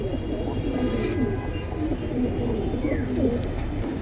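Pigeons in a collection coo steadily and softly throughout, a low continuous murmur of several birds with no talking over it.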